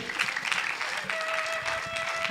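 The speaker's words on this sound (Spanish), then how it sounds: "Así que dale fuerte aplauso a Cristo." Church congregation clapping during an evening worship service, a steady dense patter of many hands filling the space, with a sustained tone and some murmured voices mixed in.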